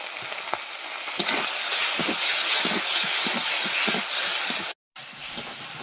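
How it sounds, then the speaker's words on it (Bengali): Oil with onion, salt and turmeric frying in a pan for parshe fish curry: a dense, close sizzle with scattered soft stirring taps, briefly cut to silence near the end. "এবার এর মধ্যে হালকা করে লবণ আর হলুদ দেবো, দিয়ে তেলটা ভেজে নেবো"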